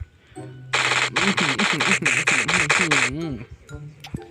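An MG3 machine gun fires in the Minecraft True Survival zombie apocalypse mod, a loud rapid burst of about ten evenly spaced shots lasting a couple of seconds, followed by a trailing mechanical whir.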